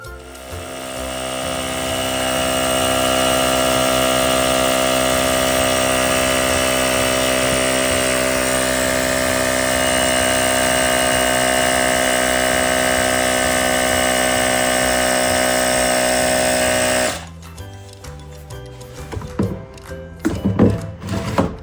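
A GOOLOO A6 Gear 160 PSI portable air compressor runs loud and steady as it inflates a tire, a dense motor drone with a rattling pulse that builds over the first seconds, holds evenly, then cuts off abruptly, leaving scattered handling clatter behind.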